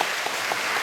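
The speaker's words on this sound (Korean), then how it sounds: "우리 환영의 박수 보내주시면 감사하겠습니다." Short stretch of welcoming applause from a church congregation, steady clapping from a group lasting under a second, even and moderately loud, with no talking.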